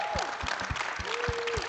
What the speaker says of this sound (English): if you could all join me in giving a round of applause for our panelists